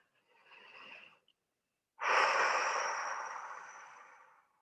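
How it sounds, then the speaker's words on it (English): A person takes a slow, deep breath, a short inhale followed by a long, steady exhale that fades out, close and alone in a quiet room during a relaxation exercise. "close your eyes and sit back"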